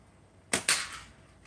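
A slingshot shot hits a can outdoors in morning sun: two sharp metallic cracks in quick succession, close and brief, then quiet.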